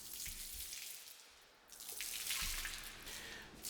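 Hot water runs steadily from a tap to mix a concrete floor cleaner in a detailing shop, with a faint hissing splash that dips briefly midway and then returns, with no talking.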